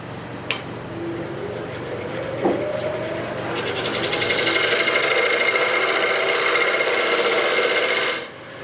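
A metal lathe turns a foot on a bolt, a steady whirring motor tone joined by a rising, gritty cutting hiss that holds for several seconds, then stops abruptly; the sound is loud and close, with no talking.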